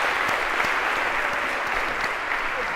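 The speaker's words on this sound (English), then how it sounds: "a round of applause for our 8 volunteers for helping to act this out" A large lecture-hall audience at a computer science class applauds volunteers, with thick, steady clapping from many people sustained at a strong level throughout.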